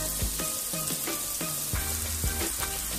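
Garlic and ginger frying in a pan for ginataang bangus with eggplant, a steady loud hiss of sizzling oil broken by repeated scraping stirs of a spatula.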